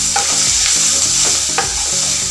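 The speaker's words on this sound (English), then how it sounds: "put in the curry leaves at this stage" Curry leaves and onions sizzle loudly in hot oil, a dense close-up hiss with a few rhythmic stirring strokes scraping through it.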